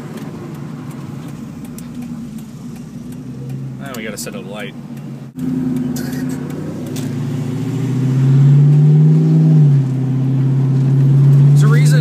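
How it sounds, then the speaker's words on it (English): A 2002 Mustang GT with an aftermarket exhaust is heard from inside the car as it pulls away on a windy day. A low, steady drone rises into a stronger, louder rumble as it accelerates, while someone talks. "let you hear the exhaust some"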